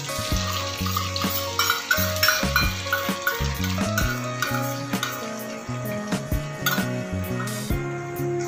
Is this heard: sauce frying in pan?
yes